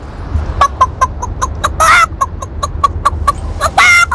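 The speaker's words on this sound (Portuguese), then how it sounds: "Galinha!" Chicken in a Brazilian TV advert, a loud close series of rapid clucks in a steady rhythm with two longer squawking bursts between them, heard alone without talk.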